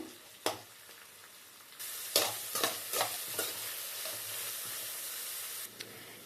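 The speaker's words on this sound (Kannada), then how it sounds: "ಈರುಳ್ಳಿಯನ್ನು ಚೆನ್ನಾಗಿ ಎಣ್ಣೆಯಲ್ಲಿ ಕೆಂಪಗೆ ಫ್ರೈ ಮಾಡ್ಕೋಬೇಕು" Chopped onion fries in oil in a pan for a brinjal curry, giving a steady close sizzle that swells after a quiet start, broken by several sharp scrapes of stirring.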